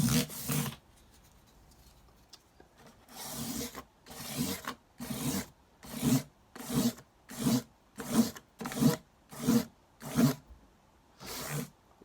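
An acoustic guitar's frets are polished one at a time with high-grit abrasive, giving close, dry rubbing strokes that quicken into a steady back-and-forth rhythm of short rasps separated by brief pauses.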